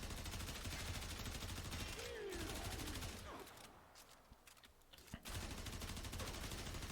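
Sustained full-auto rifle fire from the Tiberon Prime in Warframe, a dense, loud burst of rapid shots that thins out briefly midway before resuming at full strength.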